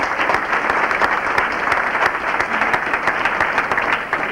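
Sustained applause from an audience at the East Detroit High School Class of 1999 senior class event: a dense, steady wash of many hands clapping throughout, fairly loud and close, with no speech over it.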